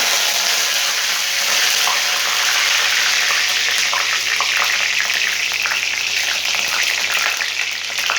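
Curry leaves hit hot oil and sizzle loudly, a dense, steady crackling hiss with sputtering pops that carries on for several seconds, no voices.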